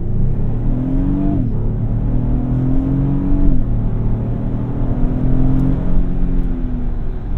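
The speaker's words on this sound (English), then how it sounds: "let's do a quick 0 to 60" A 2024 Lexus GX 550 V6 accelerates hard from a full stop to 60 mph, its engine drone climbing steadily in pitch and dropping briefly at two upshifts, loud and continuous without talk.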